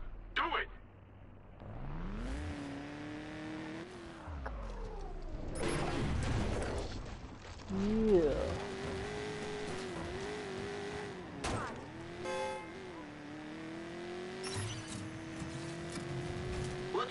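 A car driven at speed in the video game Watch Dogs, its engine pitch climbing and dropping through gear changes, with occasional tire squeal and skidding, while people talk over it throughout.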